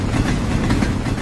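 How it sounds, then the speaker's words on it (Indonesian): Approaching train in the Sakura School Simulator video game, a steady low rumble with faint rhythmic rail clatter heard alone at moderate volume. "kok kayak ada suara kereta mendekat?"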